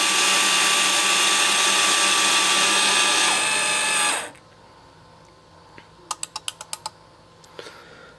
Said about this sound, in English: you'll notice that all the actuators are retracting back